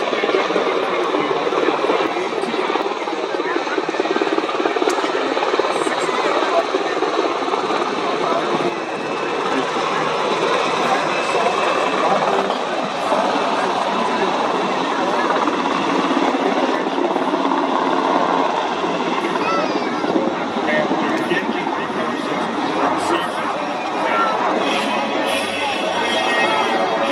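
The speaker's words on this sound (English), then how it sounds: "Above you right now are two medium 60Ls carrying the assault force." Two UH-60L Black Hawk helicopters passing overhead at an airshow, carrying an assault force, producing a loud, continuous rotor and engine drone that holds steady throughout, with a public-address announcer talking over it.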